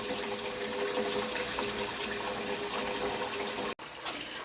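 Tap water runs steadily into a bowl of rice being rinsed, a loud continuous splashing rush that cuts off abruptly near the end before resuming.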